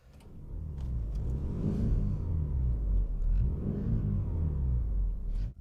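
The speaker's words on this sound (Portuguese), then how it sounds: "O som é bom, não é alto, mas dá para ouvir um pouco o barulho do motor." A 1988 Mitsubishi Galant Sapporo engine runs with a smooth, moderately loud low rumble that swells and eases as revs rise twice, heard alone without talk.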